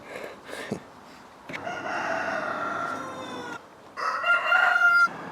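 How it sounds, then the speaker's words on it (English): A rooster crows loudly and close by, a long drawn-out call, followed by a second shorter crow and some clucking. "So there's my rooster."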